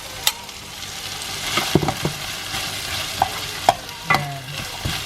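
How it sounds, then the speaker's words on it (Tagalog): Carrots for pork menudo fry in a pan with a steady sizzle and a few sharp scrapes and clinks of stirring, close and alone. "Talagay na natin ang ating carrot."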